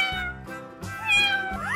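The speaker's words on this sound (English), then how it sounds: "Cat." A cat gives a series of close, clear meows with rising and falling pitch, about three calls in quick succession.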